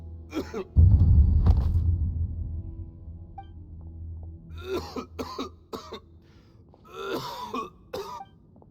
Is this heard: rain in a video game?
no